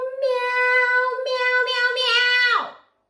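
A single sustained, nasal voice imitating a cat's meow, held steady and bright before sliding down and cutting off.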